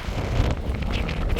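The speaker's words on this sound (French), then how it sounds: "Il y a un vent les amis" Strong outdoor wind buffets the microphone in steady, rough gusts, a loud, continuous rumble with no talking.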